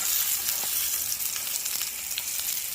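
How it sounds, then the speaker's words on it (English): Tuna searing on its second side in a skillet heated to about 500 degrees gives a steady, close sizzle with light crackling that runs without pause for the whole stretch. "we're sitting about 1 minute and 30 seconds, searing on the second side. My skillet's about 500 degrees"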